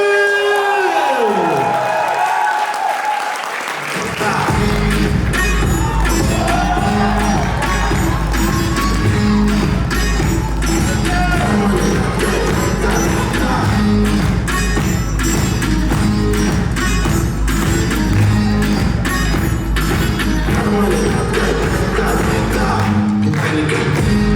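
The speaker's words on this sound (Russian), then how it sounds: "Все, аплодисменты, Данил, аплодисменты" Crowd applause and cheering at a graduation evening, with a dense steady wash of clapping and whoops building after a brief quieter start with a voice, then continuing loud and sustained, with music underneath.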